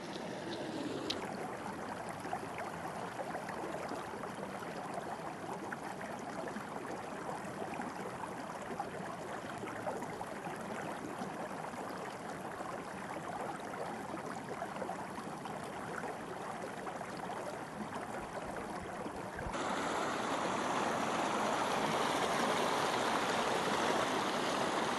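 A clear mountain stream in the Swiss Alps near Siviez Nendaz rushes steadily and close by, a broad unbroken wash of flowing water that grows slightly louder toward the end, with no voices.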